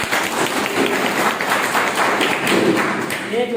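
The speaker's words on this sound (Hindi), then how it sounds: "जबरदस्त तालियां वाले से" Audience clapping at an income training session, a loud, continuous burst of many hands with some thumps and taps, lasting a few seconds.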